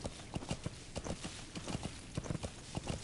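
Horse hooves clip-clop in Metal Gear Solid V, a quick, even trotting rhythm of distinct hoof strikes, moderately close and steady, with no talk over it.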